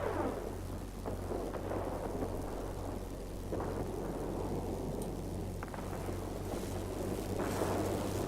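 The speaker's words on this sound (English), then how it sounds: "There's a heavy storm" Heavy thunderstorm in the video game World of Warplanes, with steady rain noise and a low rumbling bed, broken by several thunder cracks and rolls across the span, loud and continuous with no talk.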